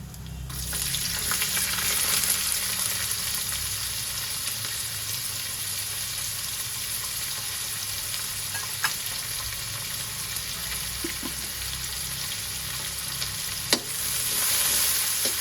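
Chopped onion frying in oil with bay leaf and cinnamon for a green vegetable pulao, a steady loud sizzle with occasional spoon scrapes and stirring, no talking.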